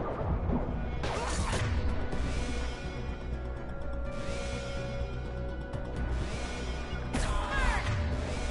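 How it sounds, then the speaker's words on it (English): A flashbang grenade going off in the game Mass Effect 2, heard as several loud crashing bursts with ringing, whooshing tails over a dense rumbling game soundscape. "Nope, flashbang grenade."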